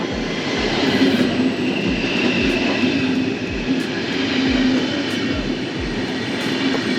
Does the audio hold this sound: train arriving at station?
yes